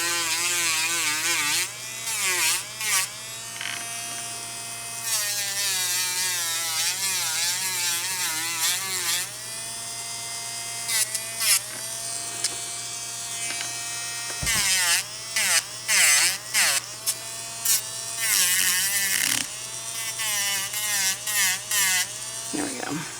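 Electric nail file whirring during a manicure, a steady high buzz whose pitch shifts and cuts in and out as it touches the nails, running under someone speaking through most of it.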